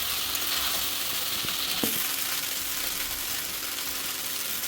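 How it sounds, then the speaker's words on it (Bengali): Boiled pasta is stirred in a hot pan for an egg chicken pasta, giving a dense, even sizzle with occasional scraping knocks and no talking. "এবারে আমি দিয়ে দেবো পাস্তা সিদ্ধ রাখা পাস্তাগুলো। এবার আমি নেড়ে চেড়ে নেবো।"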